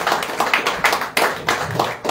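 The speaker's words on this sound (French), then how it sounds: "applaudissez cet esprit qui est dans la vie serviteur de Dieu" Congregation clapping at a church revival service, steady rhythmic handclaps with regular loud accents, close and busy, with no talk over them.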